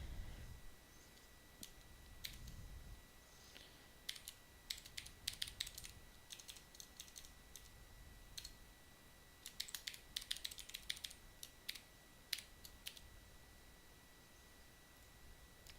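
Keys tapped on a computer keyboard while entering a password, quiet scattered clicks in short irregular bursts over a low hum, with a thump or two near the start; no talking.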